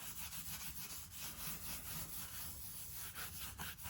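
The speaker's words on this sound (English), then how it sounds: "once you take your hand and just rub it down so that it's a nice even gray and the texture disappears" A hand rubs a charcoal coating on paper to an even gray, making soft, continuous rhythmic scrubbing and swishing strokes, faint and close, with no voices.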